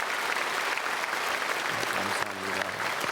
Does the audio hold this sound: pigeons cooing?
no